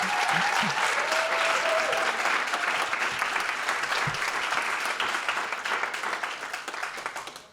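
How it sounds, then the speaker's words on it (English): Sustained audience applause at the Contra Costa County Poetry Out Loud finals, a dense, steady wash of many hands clapping that fills the room and tapers slightly toward the end. "Let's give them another round of applause."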